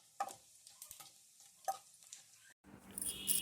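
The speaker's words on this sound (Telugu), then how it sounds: "మిరపకాయలు వేసుకున్నాము, కొంచెం తాలింపు దినుసులు వేసుకున్నాం." Chillies and tempering spices go into a hot pan for a yendu chepa and chikkudukaya curry. Quiet stirring clicks and scrapes come first, then a soft, continuous sizzle of frying rises up close.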